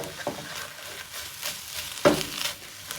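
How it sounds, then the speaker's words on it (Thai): Tuna filling for buns is stir-fried in a pan, giving a soft, close sizzle broken by a few scraping strokes of the spatula, one louder scrape near the end. "ผัดให้เข้ากันนะคะ"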